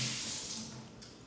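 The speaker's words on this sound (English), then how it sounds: "Wash my hands." Water from a tap runs steadily into a sink while hands are washed in a home kitchen, a close, even splashing hiss lasting about a second with no talk.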